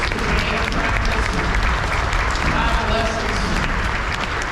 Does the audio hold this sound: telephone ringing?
no